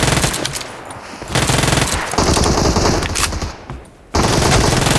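Dense, loud automatic gunfire from PUBG Mobile rattles in continuous bursts, briefly thinning and dropping quieter before a fresh burst erupts.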